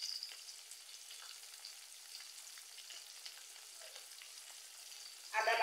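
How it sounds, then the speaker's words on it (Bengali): Garlic paste fries quietly in a pan for chicken bhuna with satkora, a faint, even sizzle ending in a brief louder burst. "আমি এখানে রসুন বাটা দিয়ে দিতেছি।"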